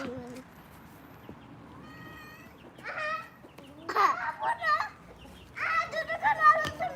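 Backyard chickens and a rooster give short clucks and squawks close by, in scattered bursts, while people talk nearby.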